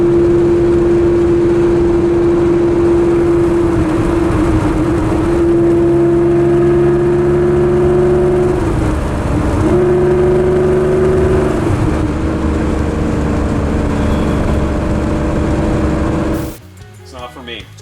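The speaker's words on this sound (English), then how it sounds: "absolutely that exhaust has got to go. That farty trumpet." A car with a loud aftermarket exhaust that sounds V8-like holds a droning, buzzy engine note that rises and dips slightly over many seconds, then cuts off abruptly near the end.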